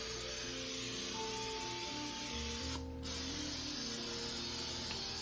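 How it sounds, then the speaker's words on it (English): Cooking spray hisses steadily onto a pan for several seconds, close and loud, with a brief pause near the middle before it resumes. "I'm going to spray the pan."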